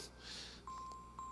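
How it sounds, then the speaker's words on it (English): A mobile phone rings during a church sermon, giving steady electronic tones in short repeated bursts over a quiet room hum. The ringing is moderately loud and plays alone, with no talking. "That is my phone."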